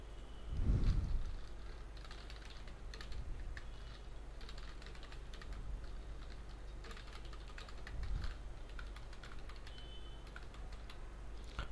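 Steady, quiet typing on a computer keyboard while entering database data, with rapid key clicks running continuously throughout and a couple of heavier thumps.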